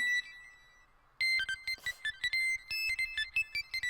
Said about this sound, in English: My smartphone rings.